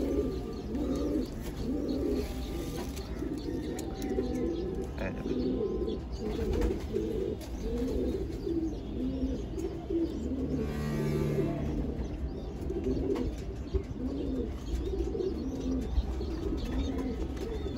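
Pigeons in a hobbyist's loft coo softly and repeatedly in overlapping, rolling calls, with occasional light chirps and a brief flutter. The birds are close and carry on steadily without any talking.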